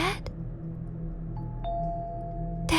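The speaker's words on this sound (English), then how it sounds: "The bell rang again." A doorbell chimes twice in a quiet house, sharp bright tones ringing out over a low steady hum, with a louder burst of sound at the very end.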